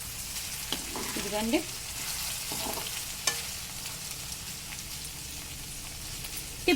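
Sliced okra (ladies finger) frying in a pan and being stirred, a soft sizzle with a few scraping strokes of the spoon and sharp clicks. Someone speaks a brief word near the start.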